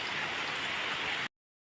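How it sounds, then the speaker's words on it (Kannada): Steady rain falls in a monsoon season, a soft continuous hiss for about a second before cutting to silence. "ಇವತ್ತು ಕತ್ತಲಾಗ್ತದೆ, ಸ್ವಲ್ಪ ಮಳೆ ಬರ್ತದೆ, ನಿಲ್ತದೆ, ಹಾಗೆ ಆಗಿದೆ"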